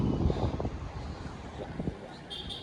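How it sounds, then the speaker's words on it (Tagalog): Strong wind buffeting the microphone in low, rumbling gusts throughout, close and fairly loud, with no clear speech over it. "ang lakas pa ng hangin ngayon oh."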